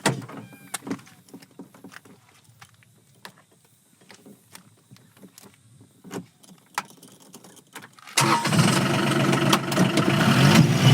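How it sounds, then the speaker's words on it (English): A John Deere Gator utility vehicle: quiet clicks and clatter of someone climbing in, then the engine cranks and catches into a loud, steady idle that holds to the end. "we can get in and start the vehicle"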